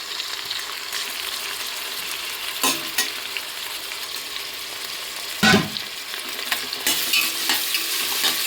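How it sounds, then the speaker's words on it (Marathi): Ground spice paste sautés in a hot pan with a steady, close hiss, broken by a few sharp scraping and clattering stirs of a spatula partway through. "ते चांगलं यामध्ये परतून घ्यायचं."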